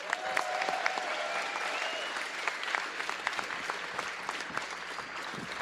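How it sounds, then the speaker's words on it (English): A crowd applauds at a FIRST-style robotics district event in California's Central Valley, a sustained, evenly textured roar of clapping heard from a moderate distance in a large hall, with faint tones and murmurs beneath. "Give them a big round of applause."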